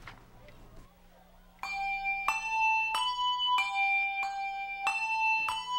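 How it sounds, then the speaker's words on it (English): A small bell is struck about seven times in a slow, uneven rhythm to pick out a simple song, each clear ringing tone sounding alone and decaying before the next, after a brief quiet start. "I didn't know when to ring the bell."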